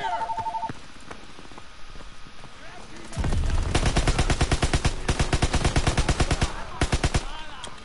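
Gunfire in Call of Duty WWII on Veteran mode: a few scattered shots at first, then a loud sustained burst of rapid automatic fire with dense rhythmic reports that ends in a few final shots.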